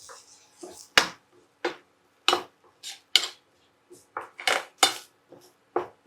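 A metal spoon stirs millet rava upma with turmeric in a pan, giving about a dozen sharp, close clinks and scrapes against the pan in an irregular rhythm with quiet gaps.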